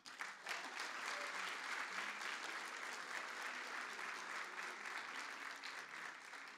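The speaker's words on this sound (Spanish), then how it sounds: "permítanme un aplauso, por favor" Steady applause from an audience fills the space, a dense wash of clapping that holds evenly for several seconds before tapering slightly.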